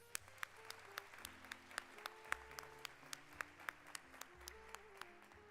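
Graduation audience at a pre-commencement ceremony applauding, a steady patter of clapping with sharp individual claps standing out, fairly faint and distant, continuing throughout with no talk.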